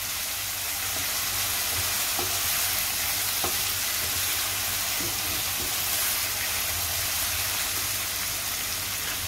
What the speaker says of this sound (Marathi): कांदा चांगला शिजवून घेते।